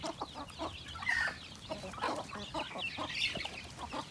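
Free-range native chickens cluck on a farm in a busy, continuous chorus of overlapping clucks and squawks at close to moderate distance, with no talking.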